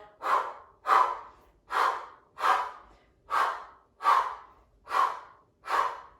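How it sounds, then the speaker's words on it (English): A Pilates exerciser breathes in a double pulsing exhale pattern, giving eight close, loud, evenly spaced breathy puffs in a steady rhythm, with no speech over them. "We're going to change the breath. Double pulsing exhale."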